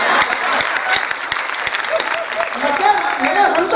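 An audience at a Hindi comedy poetry gathering in Navsari claps in a broad, steady patter, with a voice speaking over the applause in the latter part.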